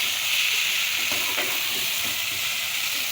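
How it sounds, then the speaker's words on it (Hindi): Okra and onions sizzle in a pan as they are stirred, giving a loud, continuous frying hiss with a few light scraping strokes near the middle and no talking. "तो जी मिक्स कर लीजिए अच्छे से भिंडी को अपनी प्याज में।"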